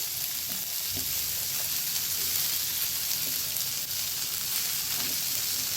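Beans, carrot and capsicum frying in a pan while being mixed, a loud, dense, continuous sizzle with faint scraping stirs underneath.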